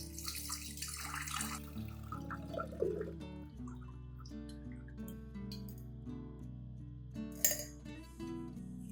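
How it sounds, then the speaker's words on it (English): Room-temperature water is poured to dilute a garlic solution, a splashing, gurgling flow at the start with light clinks of a container after, over faint background tones. "Add 700 milliliters of room temperature water to dilute the solution"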